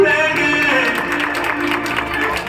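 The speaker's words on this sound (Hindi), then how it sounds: "हाथ में हाथ चले तो जोरदार तालियां।" An audience at an annual day gift and award ceremony breaks into steady, sustained applause, a dense wash of clapping mixed with tonal background sound.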